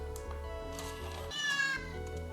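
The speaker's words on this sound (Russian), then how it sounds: "чтобы когда камера включается, она мяукала как котеночек" A Pentax MX-1 compact camera plays its startup sound, a single short kitten-like meow, clear and close, over a faint musical background.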